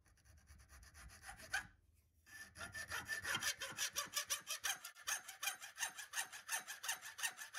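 A hand saw cuts through the end of a 10mm thick 6082 T6 aluminium bar held in a vise, starting with a few tentative strokes, a brief pause, then a fast regular back-and-forth rasping rhythm, close and clear.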